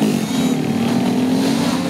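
Motorcycle engines drone loudly and steadily close by in a Shiv Jayanti bike rally in Nanded district, Maharashtra, a continuous rumbling roar with no pauses.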